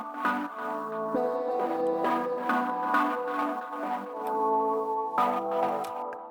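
Ambient garage synth chords from an FL Studio Flex preset, layered with chopped chord stabs and drenched in reverb and delay: soft, bell-like repeating stabs over a sustained pad, steady and moderately quiet with no voices.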